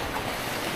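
Strong sea waves surging and churning along the shore at a Philippine spearfishing spot, a loud, continuous broadband wash of water mixed with wind noise, no talking.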